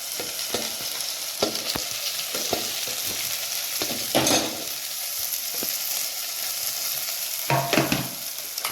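Fresh mint and coriander leaves sautéed with ginger-garlic in a hot pan for tomato rice, giving a steady loud sizzle with frequent clattering spoon stirs and scrapes throughout.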